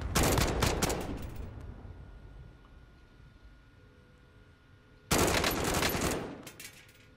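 Gunfire in Call of Duty: Modern Warfare: a loud, dense burst of rapid shots opens, fades to quiet, then a second sharp volley erupts near the end.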